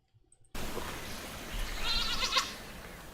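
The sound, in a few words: goats bleating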